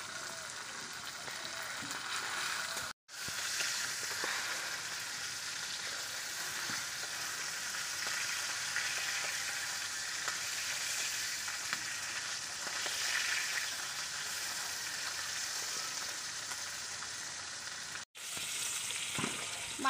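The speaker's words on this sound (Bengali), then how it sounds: "মাছ ভাজা হয়ে গেছে, তুলে নিচ্ছি" Bata fish fry in hot oil in a pan, a steady close sizzle and crackle that runs unbroken except for two brief cuts, with no voices over it.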